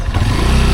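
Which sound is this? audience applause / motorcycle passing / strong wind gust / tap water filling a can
motorcycle passing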